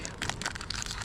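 Soft, close crinkling and crackling of a Pokémon trading card pack's foil wrapper being torn open, quick irregular rustles over about a second.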